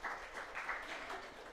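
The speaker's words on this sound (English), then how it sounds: "I think you need to clap for yourselves for today." Church congregation applauding after singing at Sunday Mass, a brief patter of scattered hand claps, moderately distant and fairly soft.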